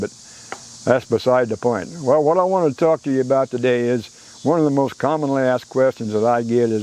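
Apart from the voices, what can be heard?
crickets and tree frogs chirping in a backyard in the evening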